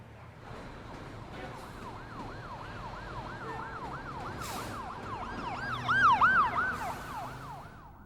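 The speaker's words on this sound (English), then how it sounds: "Sirens." A wailing emergency siren, likely an ambulance or police car, sweeps up and down continuously outside over a steady city background hum, growing louder and closer toward the end with a second siren overlapping.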